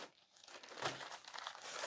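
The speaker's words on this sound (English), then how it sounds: "Got a plastic bag in here with," Plastic bag handled while clearing out a storage shed: faint, close crinkling and rustling, quiet at first and then growing in a burst of irregular crackles that continues to the end.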